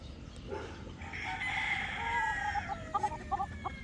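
A five-year-old Boston Esculin gamecock crows once in a long drawn-out call at moderate distance, followed by a few short clucks near the end, with faint farmyard background.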